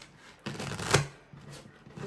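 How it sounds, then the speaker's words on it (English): A deck of tarot cards being shuffled close by, a brief riffle burst with a sharp snap in the middle and soft card rustling after, with no talking. "I'm going to start with the tarot cards, and I'm going to shuffle them really well"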